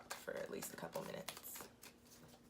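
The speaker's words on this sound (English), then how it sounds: "Okay, so I'm shuffling. I shuffle with my eyes closed" Tarot cards shuffled by hand in quick, close riffling bursts of papery flicks, a few seconds of uneven rhythm that grows quieter toward the end.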